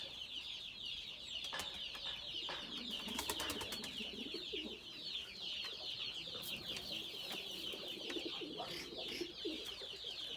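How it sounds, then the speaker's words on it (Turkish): Tumbler pigeons coo and murmur steadily close by, a dense layered flock sound with soft clucking and occasional wing flutters, continuous throughout. "Bunlar özel kuş mu oluyor, güvercin mi oluyor yani?"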